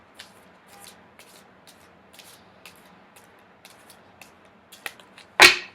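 A deck of tarot cards is handled with soft scattered flicks and slides as cards are shuffled and drawn, close up and quiet, ending in one louder riffling burst.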